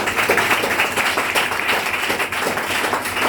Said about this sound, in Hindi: तो मेरे लिए एक बार जोरदार ताली बजाइए।